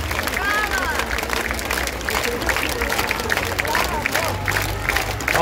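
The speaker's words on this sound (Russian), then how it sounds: "получите долю аплодисментов" An audience applauds after a concert performance in a tribute show for a singer, a steady dense wash of clapping and crowd noise with a voice speaking over it throughout.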